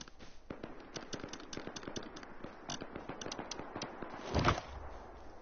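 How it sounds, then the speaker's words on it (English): An AK rifle tap-fired in Rust, a long series of sharp, distant single shots in an uneven rhythm, with a louder burst near the end. "Is he tap firing the AK?"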